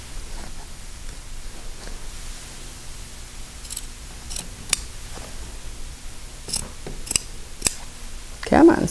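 Scissors snipping through fabric in a few scattered crisp cuts over a soft hiss, ending with a brief louder rustle.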